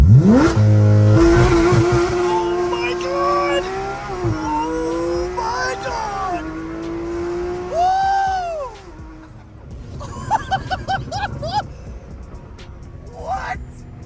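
A Porsche accelerates hard from a standstill, engine note climbing steeply through the gears in the first seconds, with brief voices and exclamations breaking in later over the fading drive.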